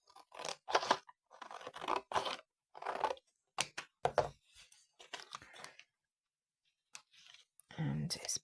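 Paper scissors snip and crunch through thick felt in short bursts, a few quick cuts in a row, close up with pauses between.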